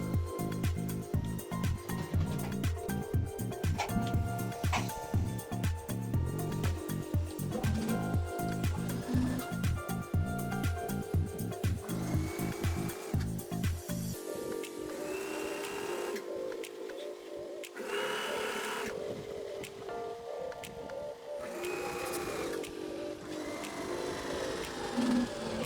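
A sewing machine stitches the hem of a sleeveless kurti, running in a steady rapid mechanical rhythm that is close and loud, then shifts to a lighter, smoother whir partway through, with no talking.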